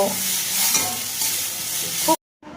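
Chopped ginger and green chili stirred with onion in a hot frying pan, a steady close sizzle with scraping spatula strokes throughout, cutting off abruptly near the end before a faint return.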